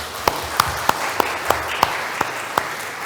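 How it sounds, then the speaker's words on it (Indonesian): A church congregation clapping in a steady, evenly spaced rhythm: about eight crisp claps in three seconds over a low room hum, fairly close. "mari kita berikan tepuk tangan Bapak Ibu"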